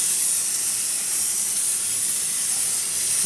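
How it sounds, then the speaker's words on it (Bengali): Eggplant frying in a pan gives off a constant, even hiss of sizzling oil, close and steady for the whole stretch with no voices over it. "এখানে বেগুন ভাজা হচ্ছে"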